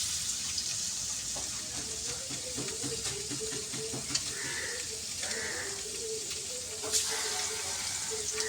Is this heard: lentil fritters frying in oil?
yes